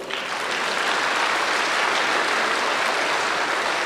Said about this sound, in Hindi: वो अपने लिए जोर से ताली बजाओ